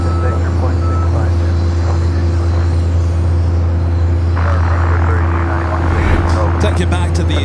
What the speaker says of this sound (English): Avianca A320 coming in from San Salvador, flight 522.